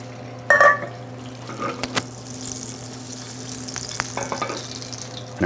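A little butter melting in a hot non-stick pan, crackling and sizzling after a brief clatter at the start, with light scraping and handling noises over a low hum.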